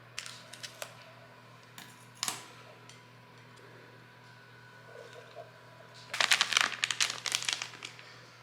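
Scissors cutting open a paper packet of confectioner's sugar while baking snowball cookies, with soft snips and faint crinkles followed by a louder burst of rustling paper over a steady low hum.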